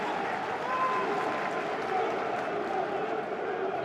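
A football crowd applauds at an FA Cup third-round match between Sheffield United and Cardiff City, a steady, distant wash of clapping and murmur that runs under a commentator's voice throughout.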